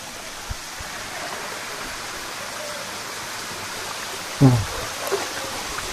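Steady broadband rush of a waterfall and flowing stream, continuous throughout with a brief louder splash near the end.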